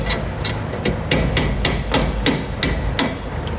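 A bolt used as a drift is hammered to drive out a Dexter bronze bushing on a 2022 Grand Design Imagine trailer, giving about ten sharp metallic blows at an uneven pace, close up and alone.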